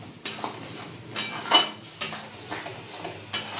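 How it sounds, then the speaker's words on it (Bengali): A spoon scrapes and clinks against a pot in repeated strokes as masala for egg korma is stirred over medium-low heat, close and fairly quiet. "দিয়ে আমি এটা কনস্ট্যান্ট নাড়তে থাকবো, যেহেতু তলায় ধরে যাওয়ার একটা সম্ভাবনা থাকে"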